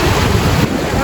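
Sea waves wash near a fishing boat at sea, a loud, rushing surge heavily mixed with wind buffeting the microphone.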